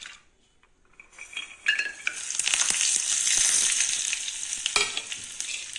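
Cashews, ginger, crushed pepper, cumin and curry leaves splutter and crackle in hot ghee for a temple-style pongal, a loud continuous sizzle with scattered pops and a few clinks of a metal spoon against the pan.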